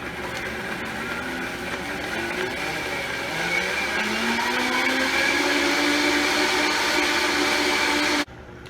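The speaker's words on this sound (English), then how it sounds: "I'm gonna blend it up" A kitchen blender whirs steadily as it purees a chicken souvlaki marinade, its loud motor drone rising slightly in pitch midway, then cutting off abruptly near the end.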